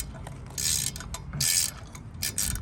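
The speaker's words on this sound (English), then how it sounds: "Doing it right now, loosening these flanges on the actual thing" A ratcheting wrench loosens bolts on bicycle flanges, giving bursts of close, crisp mechanical clicking that start and stop in short runs, with no talking.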